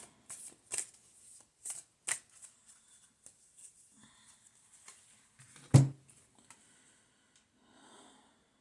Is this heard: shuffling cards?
yes